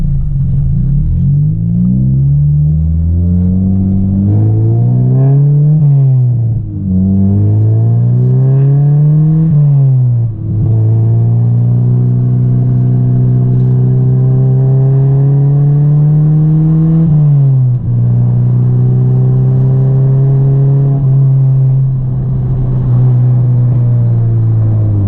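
A 9th-generation Honda Civic Si engine drones steadily from inside the car, its pitch climbing and dropping in repeated throttle surges and slow rises, loud and continuous with no talking.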